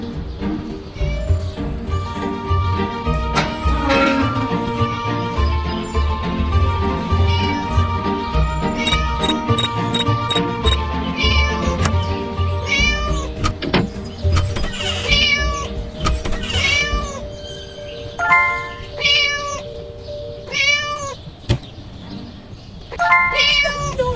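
Cartoon cat in the Scary Teacher 3D video game meowing repeatedly, several short rising and falling meows over game music and jingly effects, with a character's voice speaking at times.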